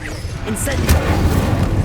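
A fire spell is cast in Hogwarts Legacy, a sharp burst followed by a rumbling, roaring low whoosh that keeps rolling. A voice calls out over the game effects.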